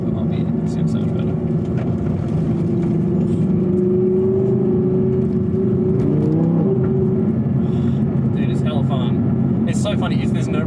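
An Audi R8 V10 Plus with its exhaust fully open accelerates from inside the cabin, a sustained engine drone that rises in pitch with gear changes. People talk over the engine.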